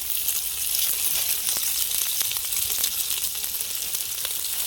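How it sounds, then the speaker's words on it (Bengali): Spinach fritters (palong shaker bora) frying in hot oil, a steady dense sizzle and crackle heard up close, alone and without talk. "আমাদের রান্না হচ্ছে বড়া ভাজছি পালং শাকের বড়া"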